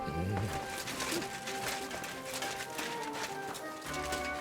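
Horse hooves clip-clop on the ground in Kingdom Come Deliverance 2, a soft steady patter of steps set under a bed of music and ambience, with faint speech here and there.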